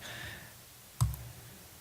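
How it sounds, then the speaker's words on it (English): A single sharp click from a presentation slide clicker at a lecture hall debate, one close short tap against quiet room tone. "okay, I'm clicking left"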